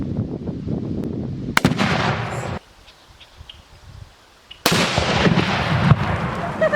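An exploding target detonates when struck by a shot fired from long range. Two sharp, loud blasts each trail into a second or two of rumbling noise, with a quiet gap between them.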